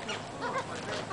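Several seagulls call over one another in a rapid, continuous squawking chorus, fairly loud and close, with no one speaking over it.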